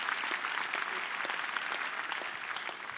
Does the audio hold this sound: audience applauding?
yes